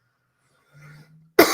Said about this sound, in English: Wow, I coughed.